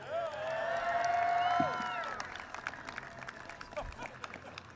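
A crowd at the 2018 United States Capitol Christmas tree lighting ceremony cheers and claps, with a whistle-like whoop rising over a steady wash of applause before the cheering thins into scattered claps.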